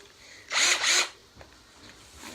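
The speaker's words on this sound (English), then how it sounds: "Okay, I got my drill." A handheld power drill whirs in two short bursts of about half a second each, loud and close, then stops, leaving quiet room noise.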